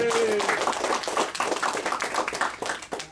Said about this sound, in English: go ahead, clap for it